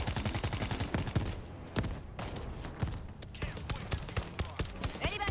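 Rapid bursts of explosive-ammo gunfire in a video game, close and loud, firing in quick repeated volleys with brief pauses, with game noise around it.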